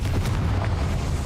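Confringo blasting spell in Hogwarts Legacy: a deep, rumbling explosive boom that fills the whole moment, loud and close, with no talking over it.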